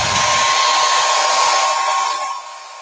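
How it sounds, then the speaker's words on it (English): A blow dryer on a cool setting runs over a chalk transfer on a board, giving a steady, close whooshing hum that holds level and then drops slightly in strength near the end, with no talking. "if you have a blow dryer, you can do a speed drying."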